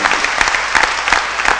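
An audience applauds at a Marathi public talk, with steady, dense clapping that carries loud and continuous throughout with no voices over it.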